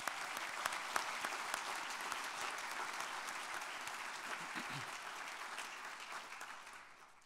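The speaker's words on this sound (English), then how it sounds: "Please join me in a final round of applause as we congratulate our 9 winners" An audience at an awards ceremony applauds steadily, a dense clatter of many hands at moderate distance that fades out toward the end.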